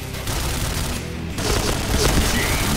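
Gunfire exchange in the online shooter Point Blank, with a rapid, steady fusillade of close shots running throughout over a dense game background.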